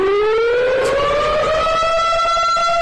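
Siren in Pokémon Mystery Dungeon: Explorers of Sky wails loudly and steadily, its rising tone sweeping slowly upward over about three seconds with a rich electronic buzz, no voices over it.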